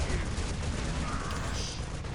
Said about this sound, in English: We got hit in the face with a plasma cannon.